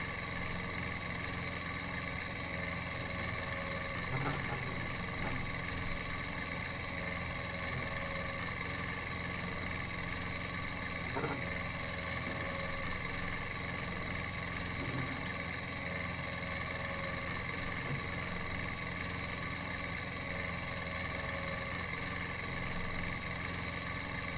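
A small tractor engine in a farming game hums at a steady idle, a constant droning tone with faint clicks now and then.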